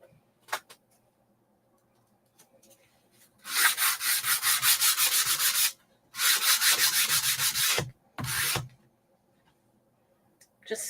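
Hand sanding smooths a surface before taping and painting, heard as close, loud bursts of rapid back-and-forth rubbing with short pauses between strokes.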